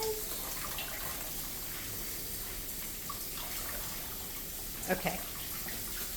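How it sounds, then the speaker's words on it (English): Tap water runs steadily over strawberries and blueberries being rinsed at a sink, a continuous wash of noise with a couple of brief splashes near the end and a short spoken word. "we've got to rinse off our strawberries real quick."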